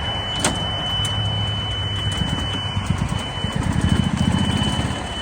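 A golf cart engine with its choke pulled is cranked and runs nearby, a steady rough mechanical drone that grows more uneven and rhythmic toward the end.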